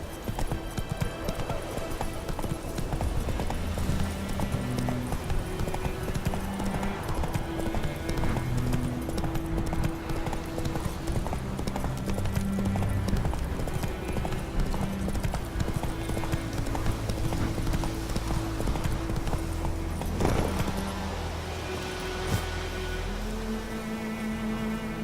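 Hooves of a horse galloping in The Witcher 3: Wild Hunt, a steady rapid clip-clop running throughout, set against a game's music and ambient background with no talk.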